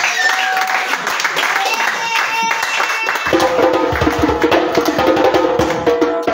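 A church congregation applauds and cheers in a large hall, a dense wash of clapping and voices that swells louder partway through as amplified music joins in.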